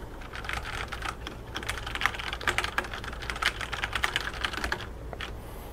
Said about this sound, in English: These are Cherry MX brown.